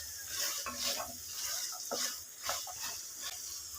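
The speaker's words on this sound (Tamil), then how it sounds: "இந்த ஊற வச்ச சுண்டல் கூட இந்த கிரேவி நல்லா மிக்ஸ் பண்ணிக்கலாம்." Soaked white chickpeas being stirred into a thick gravy in a pot, a steady wet churning and scraping with soft rhythmic pulses and light sizzling underneath, close and moderately loud.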